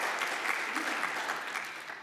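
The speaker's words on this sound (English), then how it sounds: "Big round of applause for April." Studio audience on a live morning show applauding a guest, a short, fairly soft burst of steady clapping that tapers slightly toward the end.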